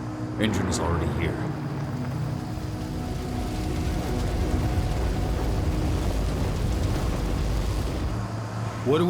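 Truck engine in Werewolf The Apocalypse Earthblood, a steady low rumbling drone running throughout at moderate level, with voices talking over it.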